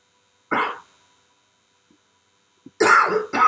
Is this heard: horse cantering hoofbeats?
no